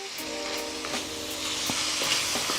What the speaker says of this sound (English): So now I'm just gonna go ahead and give this a stir, get this mixed in, so these can start to soften up